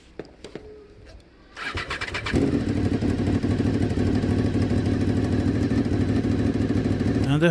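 Honda motorcycle engine after a hard impact starts up and settles into a steady, loud running rumble, following a few faint knocks and rustles at the start.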